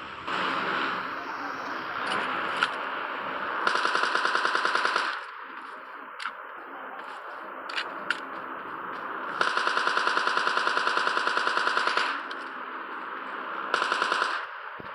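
Automatic gunfire in the mobile battle-royale game PUBG Mobile Lite: loud rapid bursts of shots at about 4 and 10 seconds and near the end, with single sharp shots between, over steady game background noise.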